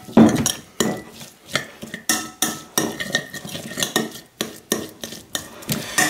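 Utensil stirring kimchi chili sauce in a bowl, a run of rhythmic scraping and clinking strokes about once a second, close and clear with no talk.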